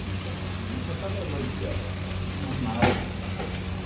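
Chili powder and ground spices are stirred in a hot pan for a mutton curry: a soft, continuous sizzle with faint scraping and one brief louder clatter near the end, fairly quiet overall.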